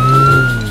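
A cartoon police car siren in a children's animation sounds as a loud, steady electronic tone, held alone and unbroken for under a second.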